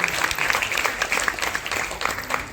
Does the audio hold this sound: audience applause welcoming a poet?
yes